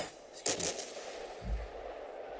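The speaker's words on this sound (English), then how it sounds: "So I'm keeping up the high explosive barrage." Two heavy reports from 152mm naval guns loosing high explosive shells in a warship battle game: a sharp, bright crack followed about a second later by a deeper, thudding boom over a steady rushing bed of sea and engine noise.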